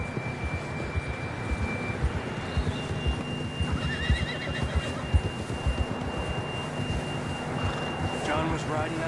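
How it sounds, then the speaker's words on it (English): A horse in Red Dead Redemption 2 neighs twice in shrill whinnies and trots with clip-clop hooves, set against a continuous game soundscape with a faint steady tone and some voices. "John was riding that horse when we left Blackwater."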